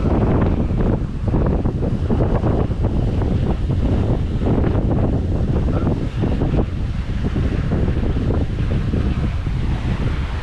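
Strong wind of about 20 knots gusting to 24 roars over a sailboat at sea between Horta and Ponta Delgada in the Azores, a loud constant buffeting mixed with rushing waves.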